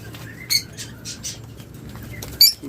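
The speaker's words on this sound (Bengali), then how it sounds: "আজকে যে সেট পাখিগুলো আপনাদের দেখাবো" Two quick bursts of wings fluttering against a quiet background, with brief high chirps and squeaks between them, close by.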